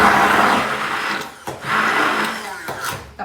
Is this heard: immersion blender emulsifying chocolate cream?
yes